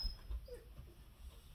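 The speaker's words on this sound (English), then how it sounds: "my dog is worried about something outside." A dog whimpers softly indoors in a short, faint, high-pitched whine. It sits among quiet room noise and no one speaks.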